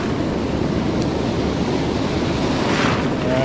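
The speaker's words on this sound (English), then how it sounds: "we got a good little push of waves coming in right here" Ocean waves surge and break continuously on a beach during surf fishing for redtail surfperch, a loud, close, steady roar of surf with wind buffeting the microphone and no talking.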